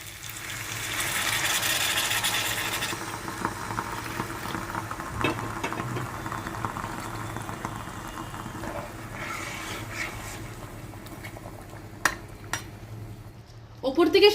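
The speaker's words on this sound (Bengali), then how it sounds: "একটুখানি নাড়াচাড়া করে আমি উষ্ণ গরম জল এখানে অ্যাড করব। উষ্ণ গরম জলটা দিয়ে দিচ্ছি।" Fried shol (snakehead) fish is stirred in masala in a pan and then warm water is poured in, giving a hissing, bubbling sizzle with intermittent metal clinks and scrapes from the spatula, moderately close.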